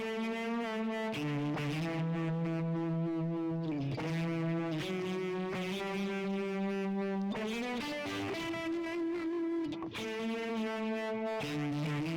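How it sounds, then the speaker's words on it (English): Electric guitar through a uni-vibe effect, with delay and reverb, playing sustained, swirling, overdriven notes and bends from Bridge Of Sighs, loud and continuous with no talking. "I'll turn on the uni-vibe, and then all of a sudden, that tone, while it has a lot of great character in and of itself, that tone goes to the next level"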